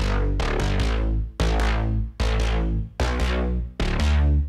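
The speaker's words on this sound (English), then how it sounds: "This bass is actually a wavetable I recorded from my Voyager 8 over here, this rack-mounted synth." A wavetable bass patch sampled from a rack-mounted Voyager 8 synth plays five loud, sustained notes with sharp attacks and rich harmonics, each ringing out before the next, with no talk.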